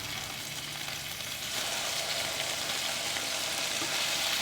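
Smash burgers with onions sizzling on a Ninja Foodi griddle, a loud, steady hiss and crackle of frying that swells slightly after the patties are flipped.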